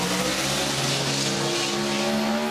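An 84 Ford Fairmont Futura with a 4-liter Barra engine races past, a loud steady engine howl with rising tones and tire noise, close and continuous, no speech.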